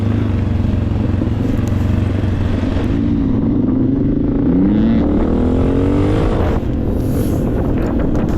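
KTM and Beta dirt bike engines running along open quad trails, a steady loud engine drone with rising and falling pitch sweeps, heavy wind buffeting the microphone throughout.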